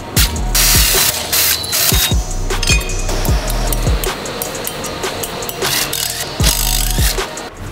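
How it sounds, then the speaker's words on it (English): A hand wrench ratchets while parts are fitted during a stock-to-stunt motorcycle build, giving loud, close, rapid clicking in steady repeated strokes with metallic clinks throughout and no talking. "And now back to wrenching."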